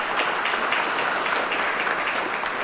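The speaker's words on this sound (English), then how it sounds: "A round of applause, please, for General Pasajian." An audience at a Marine Corps awards ceremony applauds General Pasajian, producing a continuous, even wash of many hands clapping at moderate volume.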